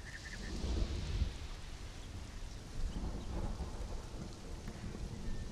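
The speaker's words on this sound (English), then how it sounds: "Storms are awesome." A rainstorm in the survival video game Conan Exiles, with steady rain hissing and low rumbling thunder rolling underneath, continuous and fairly quiet, no voices.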